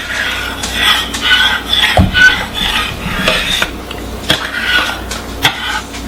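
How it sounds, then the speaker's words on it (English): A spoon stirs loaded potato soup with chives in a crock pot, scraping and knocking against the pot in uneven bursts, close and fairly loud, with a few sharper clunks and no talking. "So I'm going to put some chives in there. And stir this around."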